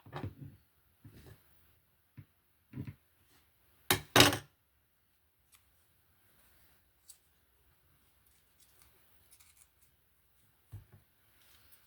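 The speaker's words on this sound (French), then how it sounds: "on va couper ce qui dépasse" Scissors snip away excess paper from a handmade folding screen card, a few short crisp cuts near and loud at the middle, with lighter handling taps scattered around them.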